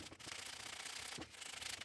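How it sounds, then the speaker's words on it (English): Steady abrasive rasping of sandpaper rubbed back and forth on a wooden chair, close and continuous with a brief pause midway. "I spent a really long time sanding this chair"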